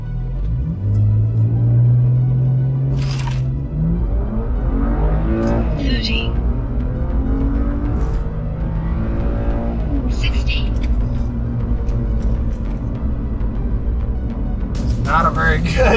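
An old, 140,000-mile BMW E90 335xi 3 Series revs and accelerates hard through rising gear pulls on a 0-60 run, loud and close from inside, with people talking over the engine.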